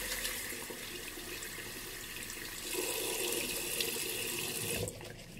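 Tap water runs steadily into a sink during a wet shave with a vintage Wilkinson boar-bristle brush, a close continuous hiss that grows fuller partway through and then cuts off near the end.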